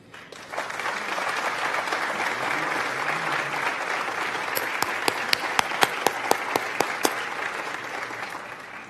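Audience applause for original team members at a 2016 gathering, sustained and fairly loud from a full room, with sharp individual claps standing out toward the end; no speech.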